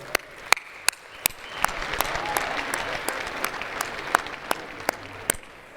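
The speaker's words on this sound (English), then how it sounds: "let's give a round of applause for all of our sponsors in the Green Man Group" A crowd at a scholarship ball applauds steadily, with a few sharp, loud claps standing out from the continuous clapping throughout.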